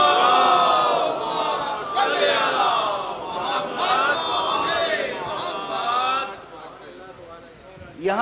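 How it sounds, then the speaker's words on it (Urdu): A large congregation at a Muharram majlis recites salawat loudly in unison, a dense chanted roar of many voices that fades toward the end. "ایک اور بلند تر صلوات"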